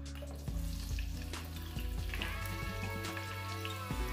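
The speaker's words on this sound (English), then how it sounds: "in the same oil, you go add the vegetables. I'm on some go in with the sweet pepper." Sweet pepper and other vegetables frying in hot oil for a Jamaican chicken stir fry, a steady close sizzle with a few clinks and stirring knocks over it, no voices.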